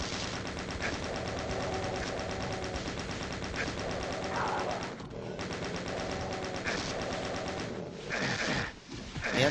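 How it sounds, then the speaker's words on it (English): Rapid, continuous chain gun fire from the video game Doom 2, a dense mechanical rattle running steadily for about nine seconds with only a brief gap near the middle, loud and close, with no talking. "And chain gun you in the face."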